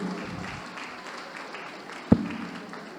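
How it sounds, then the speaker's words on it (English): Audience applause in a lecture hall, soft and steady throughout, with one sharp thump partway through. "A round of applause for Baba."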